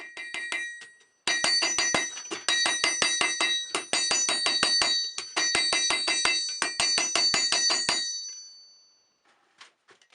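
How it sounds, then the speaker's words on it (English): A hammer strikes a hunting knife blade at an angle along the shoulder of an anvil. Rapid, ringing metallic blows land in quick bursts, loud and close, then fade into a few scattered taps. "You have to strike at an angle here, and I'm working along the shoulder so that if I miss I won't dent the surface of my anvil."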